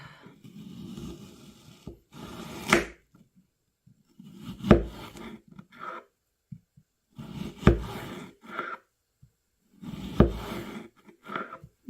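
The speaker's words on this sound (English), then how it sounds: "Alright, I'm gonna slice these." A knife slicing beef and onions on a board, coming in four separate bursts of quick, firm chopping strokes with quiet pauses in between, close and clear.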